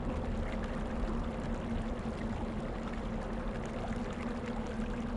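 Steady, continuous running water of a stream in the fantasy adventure game Quest for Glory V, a soft even rushing with a low hum beneath, moderately faint and uninterrupted with no voices.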